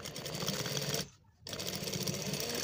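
Sewing machine stitching a collar runs steadily and close, with a rapid mechanical chatter broken by one short stop before resuming.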